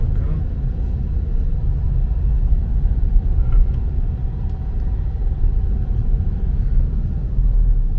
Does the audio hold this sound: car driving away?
yes